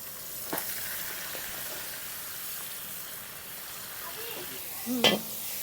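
Drained taro greens drop into a hot pan for a dish with hilsa fish head and start a soft, steady sizzle, faint and low, with a brief louder burst near the end.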